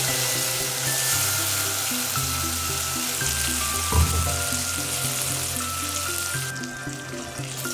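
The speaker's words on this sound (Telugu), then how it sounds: "మసాలా పేస్ట్ వేసుకొని బాగా కలుపుకొని పచ్చివాసన పోయే వరకు వేయించుకోవాలండి" Masala paste fries in a pan with a steady, close sizzle, broken by a brief scrape of stirring partway through; no one speaks.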